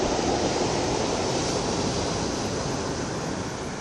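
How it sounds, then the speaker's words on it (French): Ocean surf and swell at Cambaie on Réunion, a steady, loud, broadband wash of breaking waves mixed with wind rumble, continuous throughout with no voices. "Voilà, et ici l'océan et ça houle."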